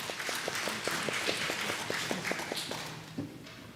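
A church congregation at a Sunday worship service claps together in a quick, steady rhythm of roughly a dozen distinct claps that fade out, heard alone.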